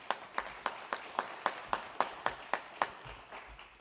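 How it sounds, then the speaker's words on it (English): Applause at a small business awards ceremony, heard as steady, evenly spaced claps in a brisk rhythm, fairly faint with a bit of room echo. "Let's give them a well-deserved round of applause."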